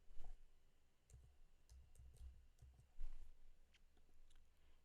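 Computer mouse clicking during work in Figma design software, a scattering of faint, soft clicks in an uneven rhythm against a quiet background.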